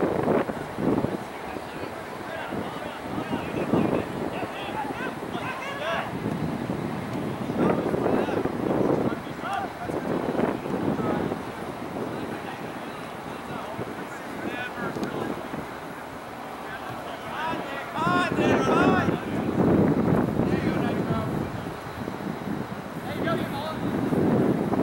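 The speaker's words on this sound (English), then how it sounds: "Very windy back here." Strong wind buffets the microphone on an open field behind a school during an ultimate frisbee game, a continuous rough roar with gusts rising and falling while people talk and shout.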